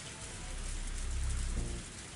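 Heavy rain pours at night in the visual novel Higurashi When They Cry Hou, a dense, constant hiss of downpour with a low rumbling swell near the middle.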